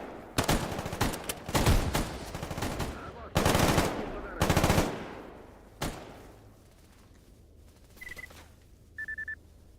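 Bursts of automatic gunfire from the survival shooter STALKER GAMMA, loud and close, with several separate volleys followed by a few fainter shots and short electronic tones.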